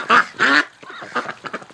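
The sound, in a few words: female ducks quacking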